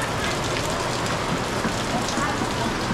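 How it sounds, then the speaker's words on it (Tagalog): Rain falls steadily at a market stall as a dense, continuous patter of drops. "May ulan din pala dito."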